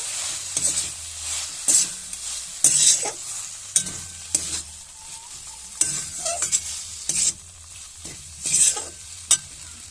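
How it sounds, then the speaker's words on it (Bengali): Boiled potatoes are stirred and mixed with turmeric, chili powder and masala in a pan, a series of close scraping, clattering strokes in irregular bursts over a faint background sizzle. "আলু ভালো করে মশলার সঙ্গে একটু মাখিয়ে নেব"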